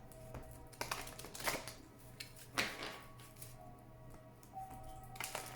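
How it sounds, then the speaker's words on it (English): Oracle cards are shuffled by hand in a quiet room, with soft scattered riffles and slaps in several brief bursts, close and fairly faint. "Please think of your question as I shuffle the cards."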